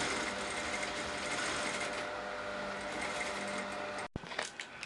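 A sewing machine stitches a border onto the top of a dress, running in a steady, close, continuous whir before stopping abruptly near the end, followed by a few light handling sounds.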